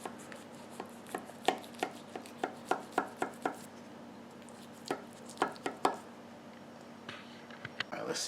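A utensil cuts repeatedly into an air fryer lasagna made in a Power XL air fryer, sounding as a dozen or so steady knocks and scrapes against the pan, close and clear with a quiet pause in the middle.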